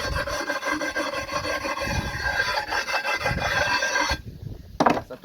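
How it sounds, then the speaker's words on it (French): Close, steady rasping of a file worked back and forth along the wet edge of a stone slab for a pool terrace, in rhythmic strokes that stop near the end. "On la trempe ici dans l'eau et après on vient un petit peu limer"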